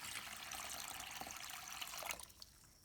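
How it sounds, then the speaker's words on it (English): Tap water pours steadily into a basin of uncooked rice, a continuous close rushing splash that thins and tapers off near the end, with no talking. "Add water so that it covers the rice."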